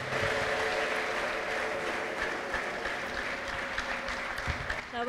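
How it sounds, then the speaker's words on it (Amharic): A church congregation fills the room with steady, dense applause mixed with high ululating cries, sustained and loud throughout with no pause. "ለጌታ ከፍ ያለ እልልታና ጭብጨባ አምጡ"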